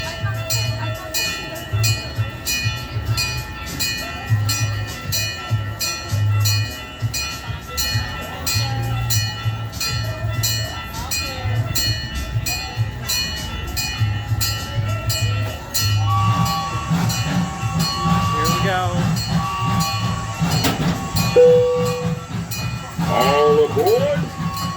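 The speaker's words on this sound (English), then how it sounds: "welcome aboard the Kemah Boardwalk Railroad, a gas-powered handmade replica of an 1863 Central Pacific steam engine train" A gas-powered handmade replica of an 1863 Central Pacific steam engine train runs on the Kemah Boardwalk Railroad, with a steady rumble and rhythmic clatter beneath an amplified announcer's voice and a brief whistle-like tone near the end.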